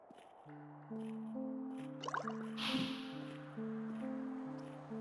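Water dripping and splashing in the video game Lunacid, a few wet plinks and a brief liquid burst in the middle, heard over sustained layered synth music tones.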